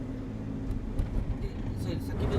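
Car rolling along a road toward the Fukushima exclusion zone in Japan, a steady low road and engine rumble with faint background talk.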